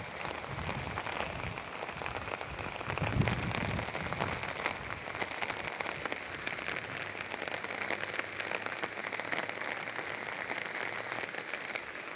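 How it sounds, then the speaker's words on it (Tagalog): Steady rain falling outdoors in the Philippines during July, a dense continuous hiss of drops on surfaces, evenly loud throughout with no talking. "It's raining, man."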